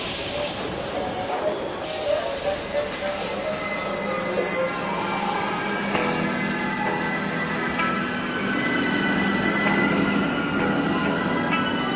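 A French TGV high-speed train running on rails, with high metallic wheel squeal and steady rolling noise heard from inside, moderately loud and continuous, with faint talk underneath.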